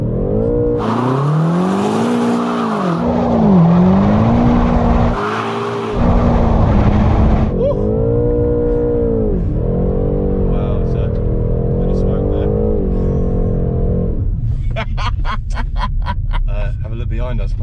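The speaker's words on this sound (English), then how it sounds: "We're going into burnout mode." Loud, sustained V8 roar from a 625 bhp BMW M8 Competition doing a burnout, revs rising and falling in repeated surges with brief cuts, then settling to a lower idle burble while a voice talks over the end.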